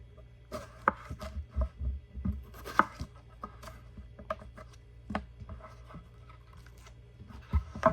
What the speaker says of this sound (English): Step 1 is the onion. Cut in half. Cut off the ends.